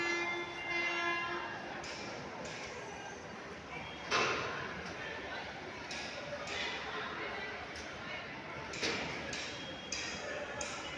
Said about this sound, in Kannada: ಈ ಟ್ರೈನ್ ಇವಾಗ ಹೊರಡೋ ಥರ ಇದೆ